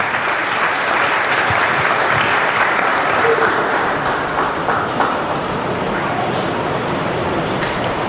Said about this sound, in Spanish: hoy nos va a tocar recibir con un aplauso muy fuerte a Edgar y Elba